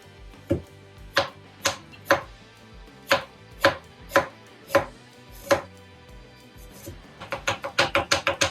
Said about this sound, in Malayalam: കുറച്ച് ഗാർലിക്കും കുറച്ച് ജിഞ്ചറും കൂടി കട്ട് ചെയ്തെടുക്കാം